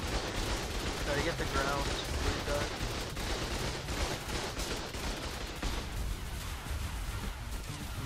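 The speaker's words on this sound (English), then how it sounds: "That was 5 turrets and 1 rocket." Turrets and a rocket fire in the video game ARK during a cave fight on Aberration, a continuous dense barrage of rapid gunfire and blasts under a voice that speaks briefly.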